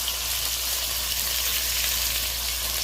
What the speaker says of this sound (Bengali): মাছ কড়াইতে অল্প অল্প দিয়ে ভাজলে